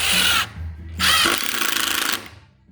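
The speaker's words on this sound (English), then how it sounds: "Now, I'm going to do pre-drill some holes in that, and then stick it where it goes." A power drill pre-drills holes and drives screws into soft wood for a shop table project, two loud close bursts of whirring with a short pause between them, the second longer and trailing off.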